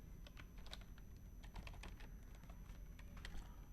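Computer keyboard typing while entering data in MS Excel 2021, a steady run of quick, light key clicks, close and quiet, with no talking over it.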